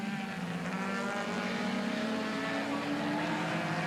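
Touring car number 69, driven by Mark Duquette in a 1986 Australian Touring Car Championship round at Amaroo, screams past at full race revs, a steady, loud engine drone with a slight pitch drift across the few seconds, no talk over it.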